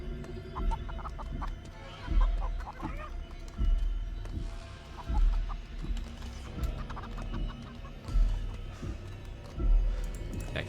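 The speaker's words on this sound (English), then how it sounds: "Next one to cluck gets fricasseed." Several chickens cluck and squawk in the dark in a recurring, uneven rhythm, fairly close, with people talking at times over the flock.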